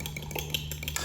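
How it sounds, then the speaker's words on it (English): Eggs whisked with crab, red chilli and spring onion, heard as a brief run of quick, light metallic clicks and scrapes against a bowl. "Whisk this through."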